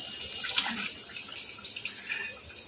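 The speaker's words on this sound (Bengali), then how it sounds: "এখন এর মধ্যে দিয়ে দেবো অল্প করে জল" A little water poured into a simmering paneer and potato curry, a soft, steady splashing trickle lasting a few seconds, faint and close with no voices.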